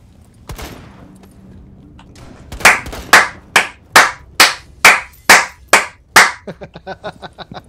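A single person clapping loudly and close, about a dozen sharp, evenly spaced claps that speed into a quicker flurry of lighter claps at the end, after a few quiet taps at the start.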